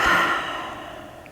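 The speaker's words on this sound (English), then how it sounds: "let your eyes slide closed, and just take a couple of breaths" A deep, slow breath drawn in and released during a guided relaxation meditation, close and soft, fading away with no talk over it.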